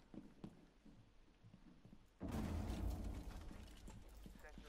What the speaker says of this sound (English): Full of explosions and shit.